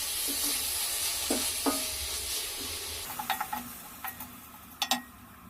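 Green chilies and coriander leaves frying in a pan, a soft sizzle under a few scattered spatula taps and clicks against the pan, quiet and close, with no speech.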